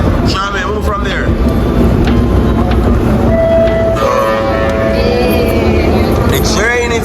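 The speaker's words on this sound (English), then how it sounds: "The train is coming." A train draws near in Panama, its rumbling rail noise and wheel clatter building steadily with a brief horn-like tone midway, while people talk throughout over the loud, continuous din.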